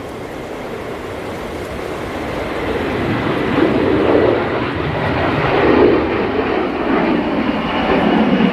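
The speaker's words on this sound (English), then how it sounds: "that lofty A321neo just departing" An Airbus A321neo jet departs Manchester Airport with a broad, steady roar that slowly swells and rumbles in the distance, and no voices are heard.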